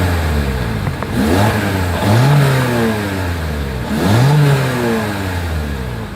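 A 2023 Toyota Corolla Hatch exhaust idles with a close, loud rumble, then is revved twice, each rev rising sharply in pitch before dropping back to idle.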